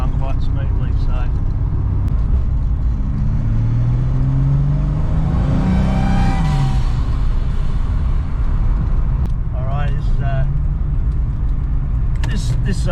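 A Centura with a changed gear ratio and boost drives along a 100 km/h road, its engine and road noise rumbling steadily as the engine note climbs under acceleration midway, with brief bits of voice near the start and end.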